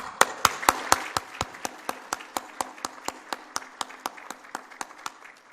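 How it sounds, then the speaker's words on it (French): Audience applause at an Haitian independence anniversary ceremony, heard as a sparse, steady run of individual claps, a few hands at first and then one or two clappers keeping an even beat that slowly softens. "Encore une fois, avec applaudissements,"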